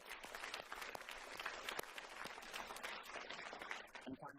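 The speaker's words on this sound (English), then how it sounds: "A big round of applause for your theaters here." Audience applause at a conference, a dense crackle of many hands clapping at moderate distance, steady for several seconds without talk over it.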